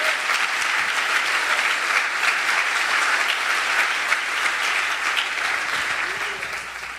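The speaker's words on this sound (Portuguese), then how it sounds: "Pode aplaudir bem forte ao Senhor Jesus." A large church congregation claps loudly and steadily in a continuous wash of applause, fading slightly at the end.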